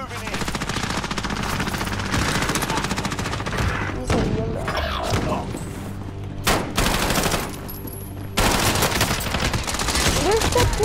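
Dense automatic gunfire in the video game Call of Duty: Modern Warfare Warzone rattles in loud, nearly continuous bursts, broken by a few short pauses, while players talk over it.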